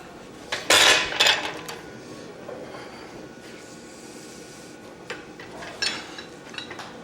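A metal piece is clamped into a blacksmith's vise at a smithing conference, giving a few sharp metallic clanks and rattles in two short clusters, with quieter shop ambience between them.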